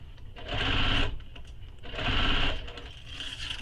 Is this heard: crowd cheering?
no